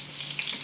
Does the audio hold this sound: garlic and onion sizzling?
yes